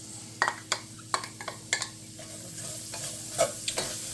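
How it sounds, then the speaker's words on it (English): Medium diced onion sizzles in two tablespoons of hot bacon fat in a pan, a close, steady fry broken by several sharp scrapes and stirs of a utensil against the pan. "we're going to add our medium diced onion"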